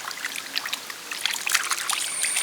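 Beef intestines being washed by hand in water, with sloshing, trickling and splashing in quick irregular bursts, close and fairly loud, growing busier toward the end.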